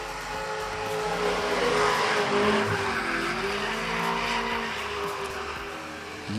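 Drift cars slide through a corner at a drifting competition, engines roaring and tires squealing in a sustained, loud, wavering howl that swells and eases over several seconds.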